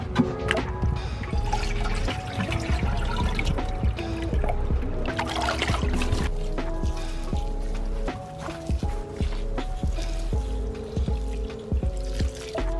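Rainwater is poured over freshly planted seeds in a greenhouse, a close, continuous splashing and trickling with wet patters and drips throughout.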